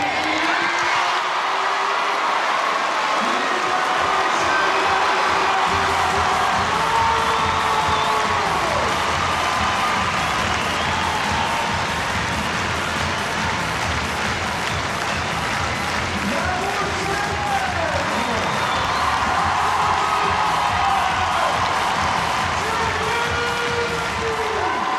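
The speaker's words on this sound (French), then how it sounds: "Le stade François-André se soulève pour applaudir la performance du champion" Stadium crowd at the François-André stadium in La Baule applauding a show jumping Grand Prix winner, sustained loud clapping and cheering with whoops, continuous throughout.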